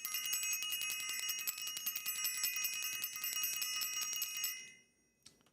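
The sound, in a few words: bell being rung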